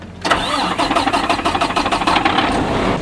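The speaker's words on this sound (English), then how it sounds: "start the other truck up and just load it too" A farm truck engine cranks and catches after a brief pause, then settles into a loud, rough idle with a pulsing rumble close by.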